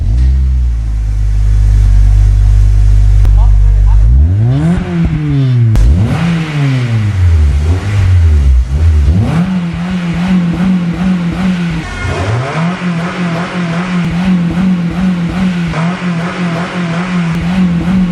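A car engine with an RSX cat-back exhaust revs loud and close. A deep idle rises into repeated sweeping revs that climb and fall, then settles into sustained higher-rpm droning with more blips, and nobody speaks.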